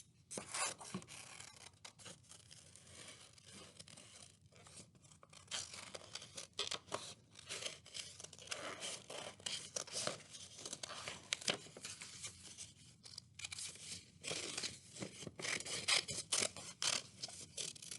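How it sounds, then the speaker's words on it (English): Scissors snipping through two stacked sheets of paper for a flying owl craft, a run of close, dry cuts and rustles that continues steadily with no talking over it. "now you can cut that out, and you want to make sure that you cut both papers"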